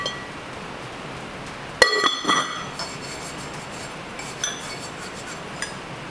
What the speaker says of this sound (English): So that's a little stoneware casserole with a lid and a knob